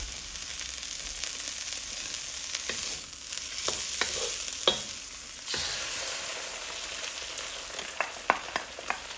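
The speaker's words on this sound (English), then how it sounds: "we can add just a drop more oil. And we're going to put the eggs in." Fresh eggs fry with vegetables in hot oil in a pan, a steady sizzle underneath with sharp clicks and scrapes of stirring scattered throughout.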